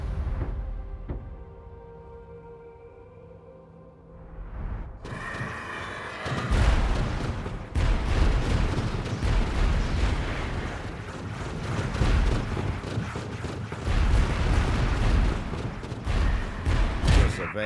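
Explosions tear through a surveyor ship being destroyed in the naval game Falconeer: Bulwark, a quiet stretch giving way to a sudden loud booming blast and sustained rumbling, crackling destruction under a windy, ocean-like wash.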